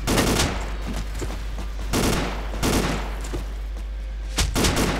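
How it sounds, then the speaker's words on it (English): Bursts of gunfire in the Ace of Spades video game, several loud volleys in quick succession with short gaps between them, close and harsh, no talk. "I'm fucking shooting ya."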